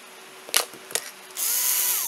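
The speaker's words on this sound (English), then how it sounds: "Is this drilling the right way?" Power drill drilling into wood while making a wooden sword: two short handling knocks, then the drill whirs up into a loud, steady high-pitched grind close by.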